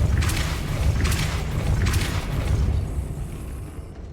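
Depulso spell cast in Hogwarts Legacy, a few rapid whooshing bursts with deep rumbling booms that fade out over a few seconds.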